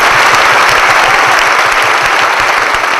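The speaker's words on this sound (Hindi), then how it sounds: "एक जोरदार ताली बजा दीजिए प्लीज।" Loud, sustained audience applause at a live motivational talk, a dense wash of clapping from a large crowd filling the whole stretch without pause and with no voices over it.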